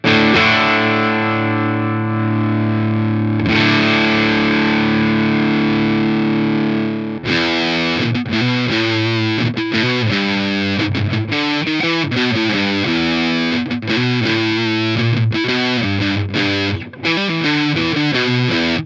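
Heavily fuzzed electric guitar: a long sustained distorted chord, then choppy, rhythmic fuzz-laden riffing, loud and saturated, no voices.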